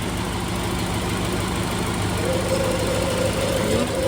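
A Land Rover 90 engine idles steadily with its cooling fan running, a continuous low rumble and fan whir heard close and alone with no talk.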